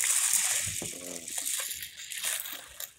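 Water splashes and sloshes into a container of mung beans, a steady liquid gush with bubbling, fairly close, no talking.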